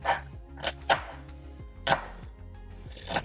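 A large-bladed kitchen knife chops food into small pieces on a board: sharp, close knocks in an uneven rhythm, about seven strokes with short pauses between them.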